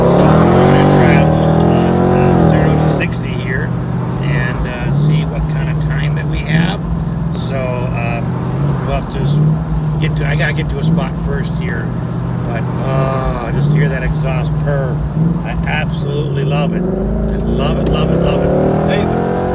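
A 2019 Chevrolet Corvette Grand Sport's exhaust is heard from inside while driving, a loud, steady, low drone with repeated rises and dips in revs, under continuous talking.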